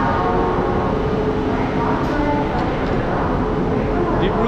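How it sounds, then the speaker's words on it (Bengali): Kamrup Express, the Dibrugarh–Howrah train, rolls into a station with a steady loud rumble of rail cars throughout, while voices talk over the station noise. "কামরূপ এক্সপ্রেস ঢুকলো"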